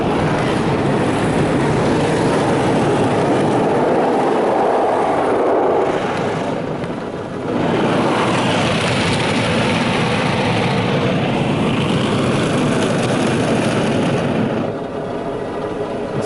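Car wash wheel scrubbers run at an automatic wash bay at a gas station, a loud continuous whirring and rushing roar with a brief dip midway before building again.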